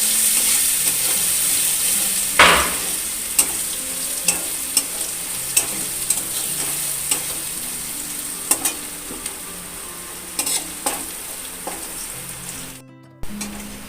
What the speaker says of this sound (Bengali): থেতো করা রসুনটাকে আমি একটু ফ্রাই করে নেব।